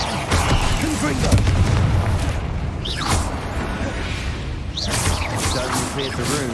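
Confringo fire spell blasts in Hogwarts Legacy, a few fiery booming bursts amid a dense, loud battle din of spell effects, with voices shouting over the chaos throughout.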